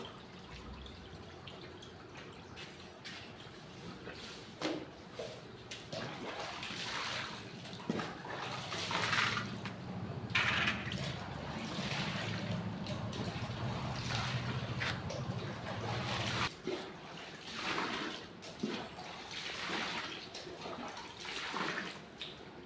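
Water runs and splashes while a dish bottom is washed in a home kitchen, with intermittent drips and scrubbing squishes. The flow is steady and moderately close, surging in places, with no talking over it.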